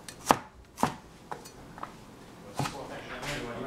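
A kitchen knife chops a tender cucumber on a board: a handful of sharp, close cuts, irregularly spaced, then a softer stretch of faint handling noise at the end.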